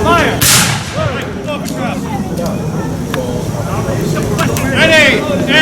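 Musket volleys at a Civil War reenactment weekend, loud sharp reports ringing out among shouted drill commands from officers, with crowd noise and voices throughout.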